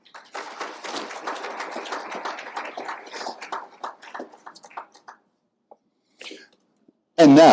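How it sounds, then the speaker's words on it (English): Pageant audience applauding the judges, a burst of clapping from a seated crowd that fades out after about five seconds, followed by a loud voice on a microphone. "will you please give a round of applause for our judges for this evening?"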